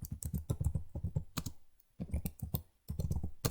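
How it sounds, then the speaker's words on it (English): Rapid clattering keystrokes on a computer keyboard come in close, fairly loud bursts, breaking off for brief pauses before resuming, with no talking. "So I'm going to type my name"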